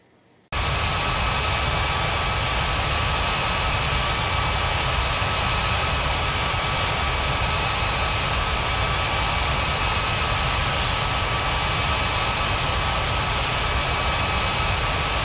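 Airliner jet on approach to land in an air traffic control simulation game, a steady loud roar of jet engines starting abruptly and holding constant, alone without speech.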